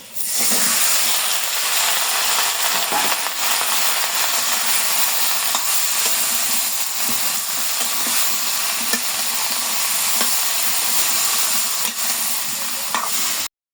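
Curry stirred into hot oil and onion tempering for a home-cooked fish dish, sizzling and hissing loudly and steadily throughout with faint stirring scrapes, no talk.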